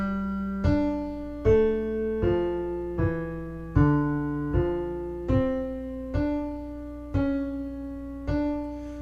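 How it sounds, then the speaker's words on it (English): A counterpoint exercise played as a sequence of evenly spaced, plucked or piano-like notes, two voices moving together in a slow, steady rhythm of about a dozen struck tones, each decaying before the next. "This is what his original counterpoint sounded like."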